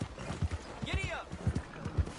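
Horse hooves pound out an irregular galloping clip-clop in Red Dead Redemption 2, with a rider's brief call mixed into the hoofbeats.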